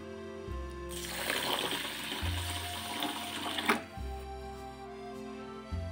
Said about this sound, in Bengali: চালটাকে এখন ভালো করে ধুয়ে নেব।